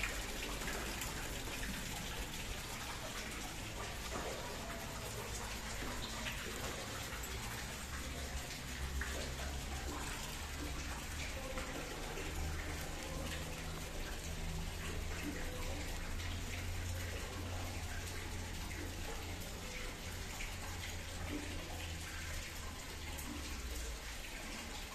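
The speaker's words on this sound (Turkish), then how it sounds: "Bu şekilde buradan da oradaki havuza dökülüyor." Water pours steadily into a pool in the courtyard of an old mosque in Mardin, a constant splashing rush lasting throughout at moderate, even level, with no talk.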